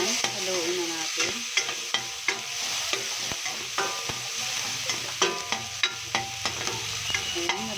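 Onion, garlic and tomato being stirred while sautéing in a pan for shrimp paste, with a steady sizzle under sharp utensil scrapes and clicks that recur irregularly throughout.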